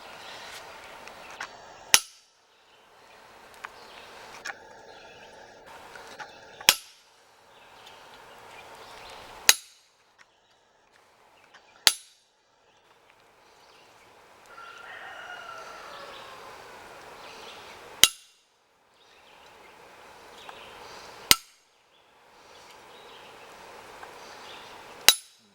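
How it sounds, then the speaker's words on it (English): Sharp metallic strikes of a large hammer on a chisel grooving cold metal while forging a leaf, about eight spaced blows, with quieter scraping and handling noise between hits. "we'll take our chisel here, and our bigger hammer here."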